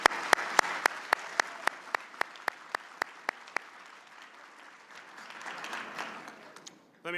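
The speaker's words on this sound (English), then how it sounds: "Please give Siemens a big round of applause." Audience applause at a luncheon, with sharp, regular claps standing out at first, then thinning into softer scattered clapping before stopping.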